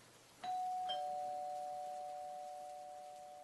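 A doorbell sounds once with a bright two-tone chime, the second tone ringing out and slowly fading in a quiet room.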